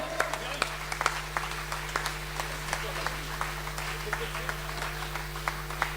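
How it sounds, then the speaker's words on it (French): At a free evening show in Albertville, scattered hand claps crackle faintly for the technicians under a steady electrical hum, with voices murmuring in the room throughout. "on peut faire un maximum de bruit aux techniciens, s'il vous plaît"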